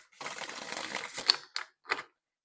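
Quick papery riffling of tarot cards being shuffled, a steady rattle followed by a few short separate flicks.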